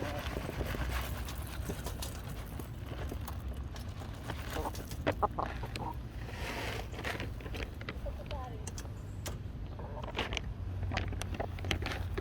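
Hens at a chicken auto feeder cluck in short, scattered bursts over steady low background noise, with speech present at points.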